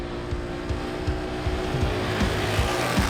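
Can-Am Outlander and Polaris ATVs drag racing side by side, engines droning loud and steady with rising revs and brief tire scrub, no talking over the racket.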